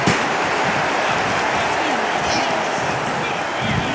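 A dense, steady crowd roar during a WWE 2K25 ladder match between John Cena, Brock Lesnar and Roman Reigns, a continuous wash of cheering with a commentator speaking over it.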